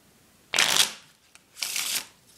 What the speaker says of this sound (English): these cards handle very nicely, as do all Bicycle cards. They will shuffle